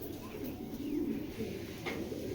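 A big-sized female pigeon coos softly and continuously close by, a low murmuring call over faint background noise.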